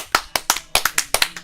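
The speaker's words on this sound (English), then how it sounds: "give the chat, everybody that's donated, and everybody around the world a woo and a clap right now" A few people clap at close range during a livestreamed Zelda dungeon charity marathon, about a dozen sharp, uneven claps in quick succession with no talk.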